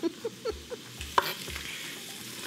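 Sliced onion and chorizo parrillero sizzle in a hot pan, a steady close crackle broken by a few brief scraping stirs and light taps.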